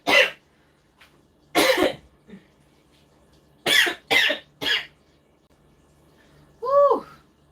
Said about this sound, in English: I hope that will be of the last cough